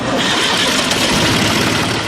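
A Case IH compact or utility tractor engine cranks and runs in a radio ad, a steady loud broadband engine roar that fills the whole short stretch with no talking over it.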